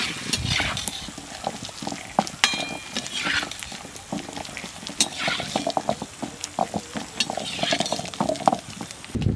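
Peanuts dry-roasting in a pan for steamed rice kudumu, stirred steadily, giving a continuous dry scraping and rattling texture with frequent sharp clicks, fairly close and without talk.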